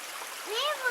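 A big rock splashes into a muddy creek, a short watery splash over flowing water, with a voice rising briefly at the same time.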